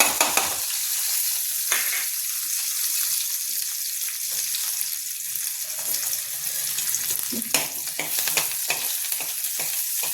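Garlic sizzling in a small amount of oil in a pan while cooking dal with spinach, a steady loud crackling fry with occasional stirring scrapes throughout, no voices.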